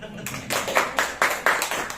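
Scattered audience clapping at a sales meeting, a few distinct claps in an uneven rhythm, fairly close and moderately loud.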